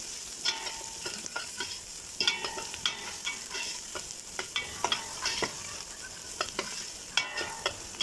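Ginger garlic paste sizzles with browned onions in a pan, close and steady, broken by repeated scraping strokes of a spoon stirring the mix.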